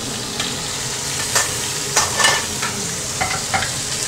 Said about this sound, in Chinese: 我放一点油下去，没有油不能煎哦